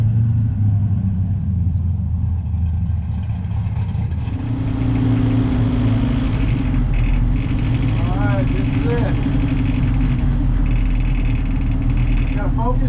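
A drag race car's engine rumbles at idle, then swells into a loud, sustained roar as it builds revs through a run, with rising and shifting pitch sweeps near the end.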